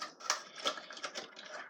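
Quiet, rapid, irregular clicking and tapping from a handheld fidget toy with switches and buttons, a string of small snaps heard up close without speech.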